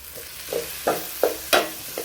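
A spoon scrapes and stirs through a pan of frying duck curry as tomatoes are mixed in, five or six distinct stirring strokes over a soft background sizzle, close and with no voices.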